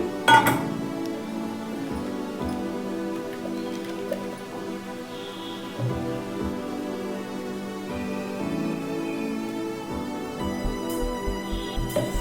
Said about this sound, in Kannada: ಒಂದು ಪಾತ್ರೆಗೆ ಹಾಕೋತಾ ಇದ್ದೀನಿ